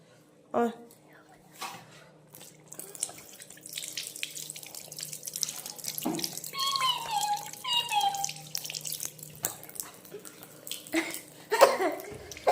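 Water runs from a tap in short bursts while a child's face is washed at home. The flow is soft and fairly close, with splashes, drips and a cough, and someone talks to the child throughout.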